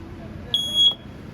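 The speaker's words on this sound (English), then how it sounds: "Right beside it is your smoke detector." Smoke detector in a 2018 Heartland Prowler 285LX RV gives a single short, shrill electronic beep, clear and near over a quiet background.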